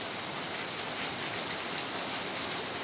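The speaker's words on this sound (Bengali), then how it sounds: "প্রচুর বৃষ্টি হয় আজকে" Heavy rain pouring outside a house during Cyclone Remal at dawn, a dense, loud, continuous roar of rainfall with no break and no voices.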